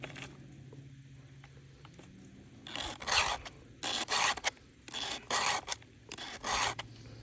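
A hand file sharpens a chainsaw chain, giving repeated rasping strokes in short bursts, close and fairly loud, after a quieter stretch of low hum and faint rubbing.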